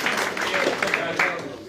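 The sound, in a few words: audience applause welcoming guests at a political event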